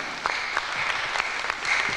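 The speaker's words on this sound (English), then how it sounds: "Clap for Jesus. Clap for Jesus." A church congregation claps steadily in sustained, dense applause with a few sharper claps standing out.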